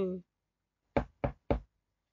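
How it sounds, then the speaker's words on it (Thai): Three firm, evenly spaced knocks on a door ring out close by, following a brief voice at the start, then silence. "สิ้นเสียงเคาะประตู"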